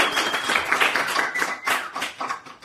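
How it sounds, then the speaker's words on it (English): People in a room keep up a brisk, dense round of clapping, many hands close together at a fairly even moderate level, without any talk. "sound of people clapping in the room is now louder than the sound effect of people clapping"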